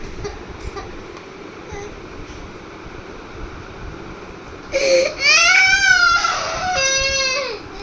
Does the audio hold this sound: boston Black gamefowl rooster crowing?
no